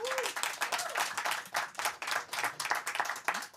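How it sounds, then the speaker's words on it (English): Audience applause at a Delft gathering on the commons, a dense, steady patter of many hands clapping throughout, fairly close and loud. "can we have a big round of applause for these wonderful people?"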